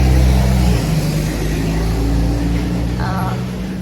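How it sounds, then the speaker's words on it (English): A Coca-Cola truck passes close by on a noisy street in Mexico, its engine a loud low rumble that swells and then slowly fades as it goes by. "It's just noisy. The truck is coming."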